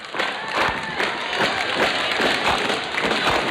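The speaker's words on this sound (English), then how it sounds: "People clapping." Parade spectators clapping as a marching band passes during the Kinderparade at Tulip Time in Holland, Michigan, a dense steady patter of many hands with crowd murmur, fairly close and continuous throughout.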